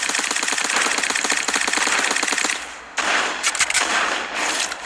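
Rapid automatic SMG fire in a video game, loud, dense bursts of shots with a brief pause near three seconds before another sustained volley.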